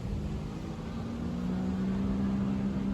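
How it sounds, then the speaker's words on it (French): A jet ski on a river near Montréal and Laval drones far off, a faint steady engine hum whose pitch rises slightly over a few seconds against quiet outdoor background noise. "une moto marine, au loin."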